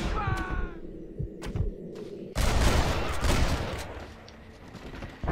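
Gunfire in the Red Dead Redemption video game during a mine raid against patrol guards, a burst of sharp shots followed by a dense, loud sustained volley of overlapping gunfire that slowly fades.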